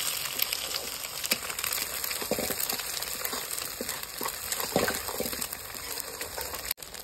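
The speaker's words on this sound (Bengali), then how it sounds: "আমার ডিমটা ভাজা হয়ে গেছে" An egg sizzles in a hot pan with a steady crackling hiss and scattered pops of spattering oil, close and constant, with no talking.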